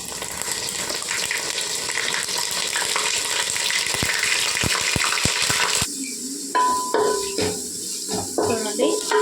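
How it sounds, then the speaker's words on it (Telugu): Ginger garlic paste fries with browned onions in a pan for chicken dum biryani, a steady loud sizzle with stirring clatter and a few sharp knocks, easing into quieter bubbling near the end. "అల్లం వెల్లుల్లి పేస్ట్ వేసుకొని వేపుకోవాలండి"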